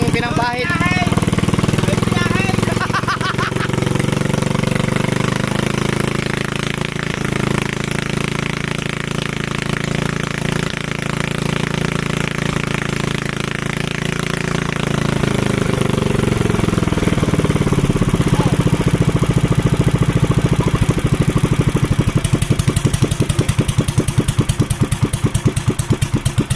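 An oil-smeared engine that is smoking runs loud and close with a steady rumbling drone that shifts pitch partway through, while voices talk over it.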